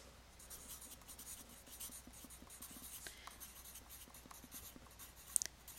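Faint, steady scratching and tapping of a marker or pen writing on a board during a math lesson on slopes, with soft repeated strokes and a few brief clicks near the end.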